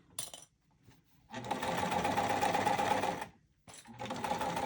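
A sewing machine stitches a bag lining seam in short bursts: a brief whir, a pause, a longer steady buzzing run of about two seconds, then another run after a short stop, close and clear.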